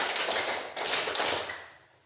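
A run of hand claps alternating left and right in a classroom clapping pattern blurs together in a reverberant room, with one sharper clap standing out before the sound fades away.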